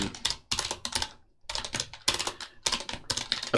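Bursts of fast typing on a computer keyboard during a speedrun of a maths puzzle game, dense close clicking in quick clusters separated by short pauses, with no one talking.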